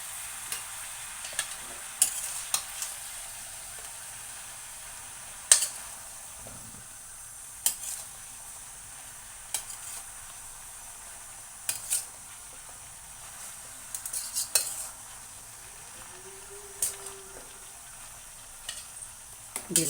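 Brinjal pieces frying in a pan hiss softly while a spoon scrapes and taps at irregular intervals as they are stirred.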